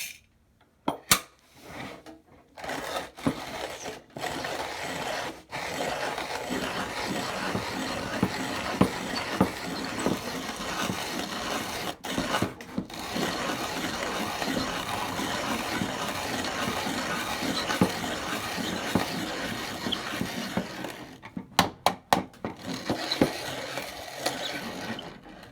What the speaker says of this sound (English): So that was about 25, 28 turns to grind 1 serving of coffee on the finest setting